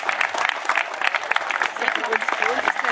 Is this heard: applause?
yes